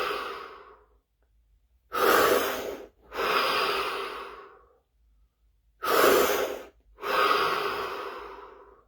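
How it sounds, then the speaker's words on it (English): Four deep breaths in a guided breathing and stillness session, each a long airy inhale or exhale lasting about a second, with short quiet gaps between, close and moderately loud with no talking. "3 deep breaths, followed by 15 seconds of absolute stillness and silence"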